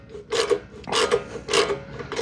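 A wrench tightens a nut on a boat bow roller in three short scraping, ratcheting bursts, close and clear with brief pauses between turns.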